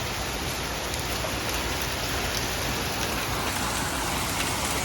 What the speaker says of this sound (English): Look at the hail.